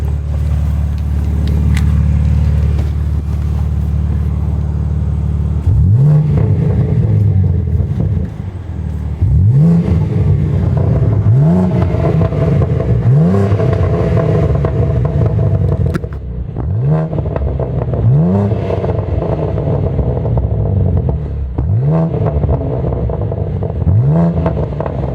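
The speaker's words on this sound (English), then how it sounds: "So I'll give you guys a couple more revs inside the car." A BMW G80 M3 fitted with an Active Autowerke exhaust is revved repeatedly, heard from inside the car: a sustained idle, then a series of about eight sharp rising revs with crackles between them, loud and close with no talk.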